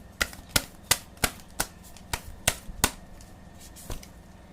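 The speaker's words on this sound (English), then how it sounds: "let me shuffle some more" Tarot cards are riffled and tapped in a series of about nine sharp, evenly spaced snaps, crisp and close, with no talking.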